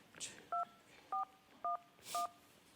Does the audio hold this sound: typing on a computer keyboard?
no